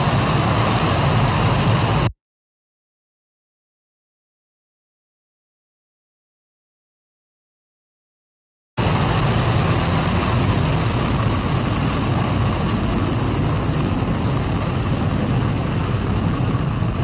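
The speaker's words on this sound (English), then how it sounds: "And we have liftoff of Spectrum." The Spectrum rocket engine roars at liftoff, a dense, broadband, continuous rumble. A stretch of dead silence cuts in partway through before the thunderous roar resumes unchanged.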